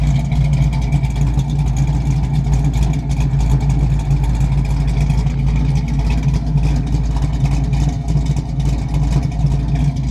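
A car engine runs steadily with a low, throbbing exhaust note, holding a constant rumble throughout with no talking.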